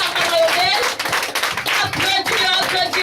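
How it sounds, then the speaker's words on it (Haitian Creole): A church congregation of men claps steadily and densely throughout, loud and close, with voices mixed into the applause. "Les hommes applaudissent, applaudissent"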